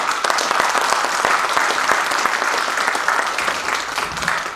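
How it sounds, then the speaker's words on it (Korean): Big round of audience applause at an academic conference on religious thought, loud and sustained with crisp individual claps throughout, tapering slightly at the end. "다 같이 뜻깊은 또 우정의 큰 박수 부탁드립니다"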